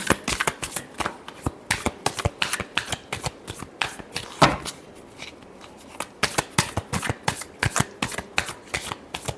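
Tarot cards being shuffled by hand, a steady run of crisp riffling bursts and soft slaps, close and fairly quiet, with no talking.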